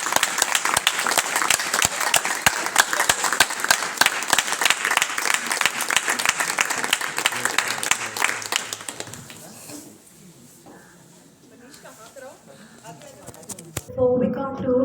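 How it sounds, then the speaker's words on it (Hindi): Audience at a Republic Day celebration breaks into loud, dense applause for about nine seconds, then fades into quieter crowd murmur and scattered voices before a short burst of clapping returns at the end. "जोरदार तालियां अपने लिए"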